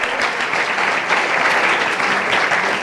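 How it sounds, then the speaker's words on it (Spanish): Loud, close applause from an audience at a cabaret comedy venue, a dense continuous burst of clapping lasting a few seconds with no voices above it. "Un aplauso para el Clan Cabaret, para Mamen, para Juan"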